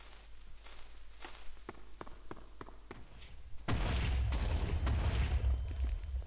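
Footsteps tap across a quiet Minecraft RLcraft scene, then an explosion blows up another level of a tall tower, bursting in as a loud, rumbling boom that keeps roaring to the end.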